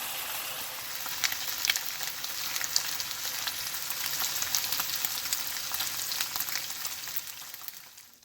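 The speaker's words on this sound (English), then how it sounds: "pan sear it over a high heat for about a minute or so on each side" Thin slices of carne asada sear in a pan over high heat, giving a steady bright sizzle with crackling pops that fades slightly near the end, with no talk.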